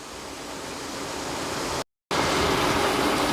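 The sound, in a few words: mutton frying in oil in a pot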